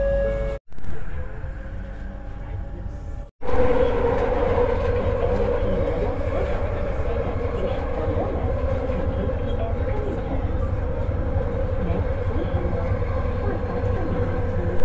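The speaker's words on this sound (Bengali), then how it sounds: "ছাড়ছে ট্রেন" A Kuala Lumpur metro train pulls away and runs, heard from inside the carriage as a loud, steady, close rumble and drone that holds after two brief cuts near the start.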